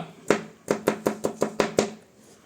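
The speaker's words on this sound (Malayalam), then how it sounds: "നമ്മളിവനെ സ്ലൈസ് ചെയ്ത് അങ്ങ് അരിയുന്നു" Seven quick, crisp knife chops on a cutting board, slicing mango and ginger for pickle, close and evenly paced, with no talking.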